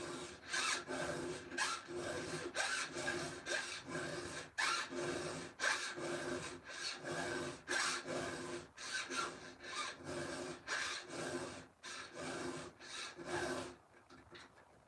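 A file rasping across a saw chain in repeated rhythmic strokes, roughly two per second, close and clear, ending in a short pause with no speech.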